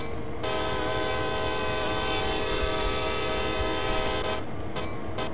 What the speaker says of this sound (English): And the horn on this is awesome as well.